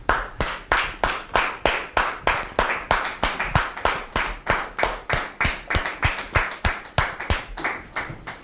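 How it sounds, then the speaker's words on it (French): A television studio audience claps in steady unison, with sharp, even beats about two or three per second that continue without a break, close and loud. "On les reçoit sous vos applaudissements"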